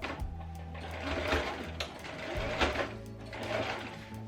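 Sewing machine stitching a shirt seam at 1 cm allowance, a quiet rapid mechanical whirr in short bursts with brief pauses and clicks, no voices.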